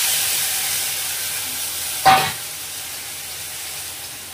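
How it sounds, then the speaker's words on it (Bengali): Onion fries in hot oil with mustard paste, a steady low sizzle broken midway by one sharp, brief hissing burst as something hits the pan before the frying settles back, with no talking. "আর এই তেলের মধ্যে এখন আমি দিয়ে দেব পেঁয়াজ।"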